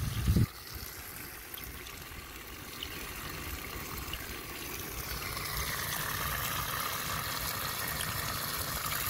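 Water runs steadily from a hose while filling containers for a van, a soft continuous trickling and splashing rush after a brief thump at the start, moderately faint and unbroken.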